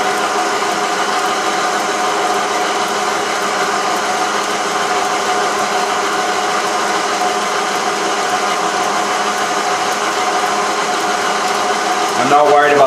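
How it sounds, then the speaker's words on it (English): A South Bend 13-inch lathe cutting a bushing under hand feed, running as a loud, steady mechanical hum and whine that holds constant throughout, with a brief rattling change right at the end. "Just feeding this by hand just so I don't have to change the lathe feed direction."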